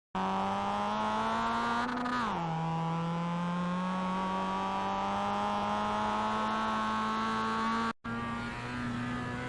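A Mazda MX-5 in iRacing, heard from the cockpit as a steady, close engine drone that dips sharply on a downshift into second gear, then climbs again under throttle, with a brief cut near the end.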